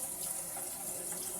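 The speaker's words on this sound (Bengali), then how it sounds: "সেজন্য পানি অ্যাড করছি" Water poured from a vessel into a simmering chicken curry in a home kitchen, a steady close splashing gush that continues unbroken for a brief moment with no talking.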